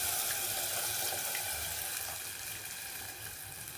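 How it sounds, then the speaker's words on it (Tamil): Tamarind water poured into a hot, frying fish curry base for a Tirunelveli-style dried fish kuzhambu gives a steady, loud sizzle and bubbling hiss that eases slightly toward the end, with no voices. "இப்போ நம்ம அந்த புளி தண்ணி கரைச்சி வச்சுருக்கோம்ல, அதை அப்படியே ஊற்றிடுவோம்."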